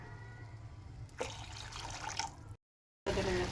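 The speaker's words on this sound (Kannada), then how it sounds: "ಇನ್ನೊಂದು ಸ್ವಲ್ಪ ನೀರು ಹಾಕೊಳ್ಳೋಣ್ರಿ ಇದ್ರೊಳಗೆ" Water runs and splashes into a pot of Maggi noodles for a short stretch, stops briefly, then resumes more strongly near the end; no one talks.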